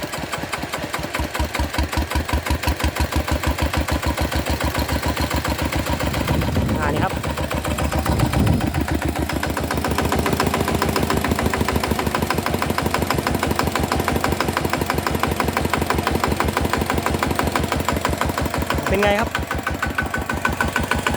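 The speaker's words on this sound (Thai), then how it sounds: "นี้เสียงที่ได้ยินนี่คือเสียงของ ไอหัวฉีด อาทีนะครับ" A diesel engine fitted with swapped fuel injectors runs at a steady idle with a rapid, rhythmic knocking clatter, close and loud, with occasional voices speaking over it.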